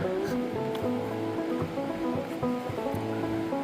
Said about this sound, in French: Aujourd'hui, je pourrais l'appeler la journée des cascades.